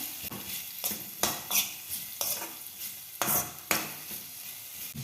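Sliced onion frying in hot oil for restaurant-style potato curry, stirred with a utensil: steady close sizzle with repeated scraping stir strokes at an uneven rhythm, no voices.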